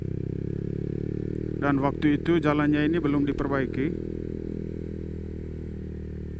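A motorcycle rides along a badly damaged gravel road, its steady engine hum and rattling continuous from start to finish, while someone talks over it for a few seconds midway.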